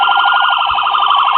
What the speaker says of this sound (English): And of course this one has a siren too.